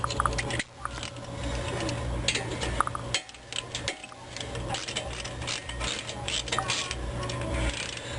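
A hand ratchet clicking steadily while tightening brake caliper bolts on a 1997 Toyota Camry, rapid metallic pawl ticks in close, continuous bursts with brief pauses between strokes.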